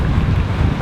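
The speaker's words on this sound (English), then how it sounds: "It's been gusting up to 30-knot winds." Strong gusting wind at Riposto Marina in Sicily, gusts up to 30 knots, a heavy low rumbling buffet against the microphone, loud and continuous, with no talking.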